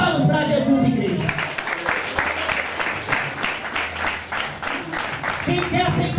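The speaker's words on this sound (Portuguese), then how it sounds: "Palmas para Jesus, igreja." A church congregation applauds during a Portuguese-language service, sustained dense clapping from a crowd filling the room, with speech heard over it.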